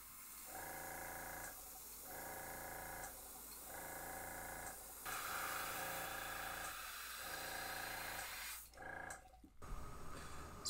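An airbrush sprays paint onto a jerkbait fishing lure in hissing bursts, pulsing on and off over a steady compressor hum, with a longer continuous spray toward the end.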